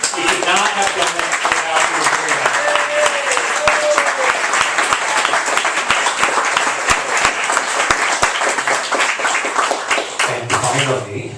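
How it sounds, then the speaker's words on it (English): Hearty round of applause from an audience at a poetry reading, loud and close with dense clapping throughout, while a person talks over it and the clapping thins out near the end. "let's hear a hearty round of applause"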